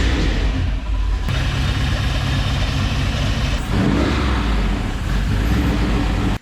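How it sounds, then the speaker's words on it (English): An FJ45 rock crawler engine turns over, catches and runs loud and close, with revving swells throughout the short stretch and no voices over it. "We don't have all this other stuff in it, but we're gonna fire it up anyway"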